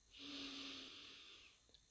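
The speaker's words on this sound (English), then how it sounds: "Take another deep breath in" One long, slow inhale through the nose during a guided calming meditation, a soft airy hiss with a faint whistle that lasts about a second and a half, close and quiet, with no talk.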